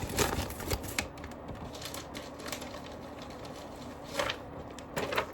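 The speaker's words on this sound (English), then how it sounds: "So again, we're gonna put this back in the sleeve." Paper rustling and soft scraping as a vinyl record is slid back into its rice paper sleeve, with a few sharper crinkles and taps near the start and end over a faint background hum.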